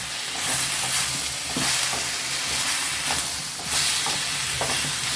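Tomatoes sautéing in a pan for Tamil kara chutney, a steady close sizzle with soft scraping stirs recurring every second or so, moderately loud and uninterrupted by any voice.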